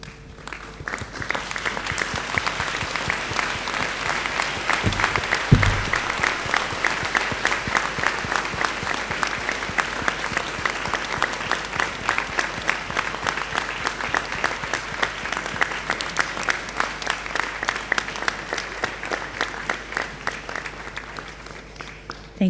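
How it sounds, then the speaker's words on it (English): A graduation convocation audience at Monash University claps in a long, steady round of applause, dense and loud throughout with one brief louder thump partway. "express their gratitude by a round of applause"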